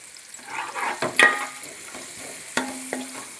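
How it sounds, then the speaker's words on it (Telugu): Chopped onions with turmeric and salt frying in a pan, a steady close sizzle broken by a few sharp scrapes and taps of a spoon stirring them. "ఉల్లిపాయలు వేగుతున్నాయి."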